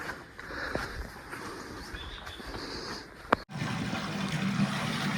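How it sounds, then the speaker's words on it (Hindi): Water runs steadily beside a shed on a mountain trek trail, a soft continuous trickle and rush under open-air ambience that swells into a fuller, louder flow after a brief knock midway. "यहाँ पे पानी है, आपको आवाज़ आ रही होगी"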